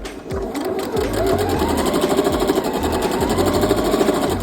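A sewing machine back stitching on a denim dress runs loud and steady in a rapid mechanical chatter, with a brief uneven start before settling into continuous stitching.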